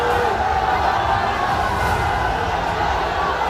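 A huge, angry crowd at a protest outside a mosque shouts slogans in a continuous, loud, dense roar of many voices with no breaks.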